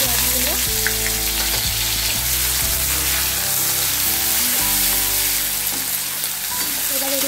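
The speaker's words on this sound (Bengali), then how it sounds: "এবার এগুলোকে গোল্ডেন ব্রাউন করে ভেজে নিতে হবে।" Chopped onions fry in plenty of oil with cumin seeds and two dried red chillies in a wok, a steady loud sizzle running throughout with occasional stirring clatter.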